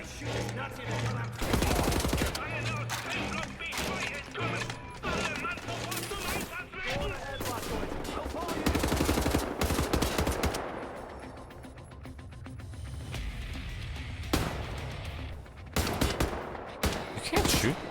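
Steady gunfire and battle noise from Wolfenstein, a Nazi-era shooter, fill the whole stretch with dense, loud shots and bursts, while people talk over the fighting.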